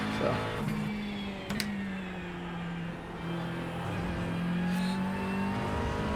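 Engine note of a McLaren GT3 race car lapping VIR in iRacing holds a sustained drone with gear shifts and slight pitch swells, close and steady throughout.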